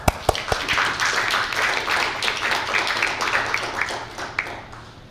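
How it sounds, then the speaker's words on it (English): Audience applause welcoming Professor Soonman Kwon to a lecture on pandemic governance, a dense patter of many clapping hands held steady for about five seconds, with a few sharper individual claps standing out near the start. "please welcome Professor Soonman Kwon with a warm round of applause"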